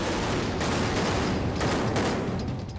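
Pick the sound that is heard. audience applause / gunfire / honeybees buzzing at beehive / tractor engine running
gunfire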